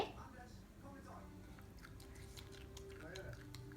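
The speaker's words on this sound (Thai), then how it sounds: "เคี้ยวดี ๆ นะคะ เคี้ยวให้ละเอียด" A small child chews bamboo shoots after kindergarten, making soft, quiet, wet mouth sounds up close while someone speaks gently nearby.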